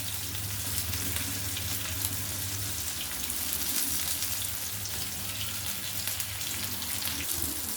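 Tuna fish deep frying in hot oil, a constant dense sizzle and crackle that holds steady throughout, close and fairly loud with a low hum underneath and no speech.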